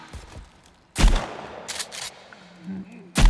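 Bursts of gunfire in a video game with crossbow and armour, loud volleys at about one second and again near the end, with quieter game sounds and a low tone between.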